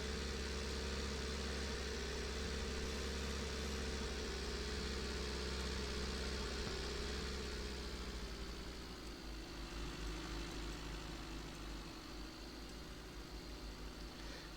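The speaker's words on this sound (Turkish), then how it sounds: "araba gidiyor" Steady car engine running in a pickup truck simulator game, a continuous droning idle-to-cruise hum with low rumble that shifts slightly in pitch partway through, alone without talk.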